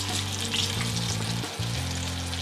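Duck pieces sizzling in butter in a pan, a steady close crackling fry with a brief dip midway, no voices present.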